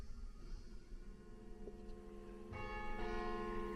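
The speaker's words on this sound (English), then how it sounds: "there are the chimes of the faceless clock" Chimes of a faceless village clock in Mells, Somerset, ringing out as sustained bell tones that begin faintly and then strike more strongly, set against quiet outdoor ambience with no talk.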